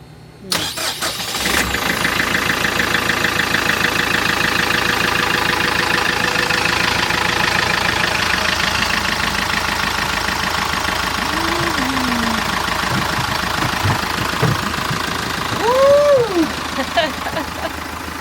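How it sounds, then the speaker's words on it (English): Twin Yanmar 110 diesel boat engines crank and catch, then settle into a steady rumbling idle that runs on at length; voices speak briefly over it near the end. "now we're finally able to fire up the engines"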